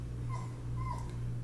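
An old, skinny dog with white fur around its mouth whimpers in two short, thin high cries over a steady low hum, faint and close by.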